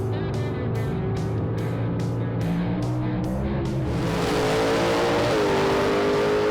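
A 1965 Chevelle wagon called the Little Red Wagon launches at a drag strip, its engine roaring loud and close with rising, stepping revs over a constant racing din.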